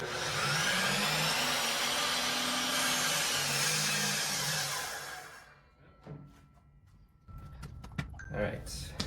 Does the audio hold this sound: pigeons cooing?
no